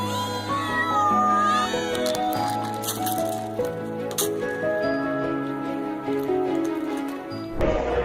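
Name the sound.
many cats meowing loudly for breakfast on a porch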